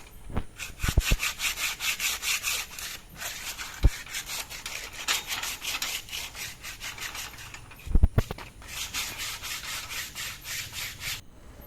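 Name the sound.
sanding a metal gate clean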